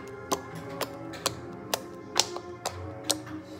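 Sharp, sticky clicks and pops from a fluffy slime made with lotion and shaving cream being squeezed, about eight distinct snaps at a steady pace, close and alone.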